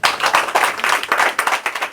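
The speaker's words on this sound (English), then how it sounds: "So give yourselves a big round of applause." Audience applause at a live talk on pain relief techniques: dense, steady clapping from many hands, fairly close and loud, sustained throughout without voices.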